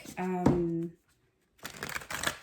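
Tarot cards are riffled in a couple of quick papery bursts after a short spoken phrase, close and fairly loud, with a gap of silence between.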